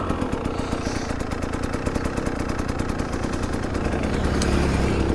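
A KTM 990 motorcycle engine runs close by with a rapid, even pulsing beat, loud and steady, swelling slightly in the final second.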